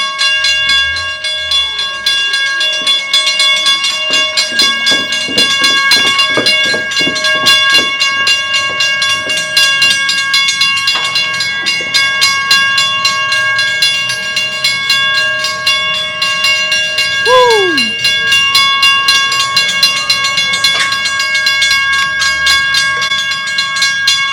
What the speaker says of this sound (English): Now we get to see a train go by.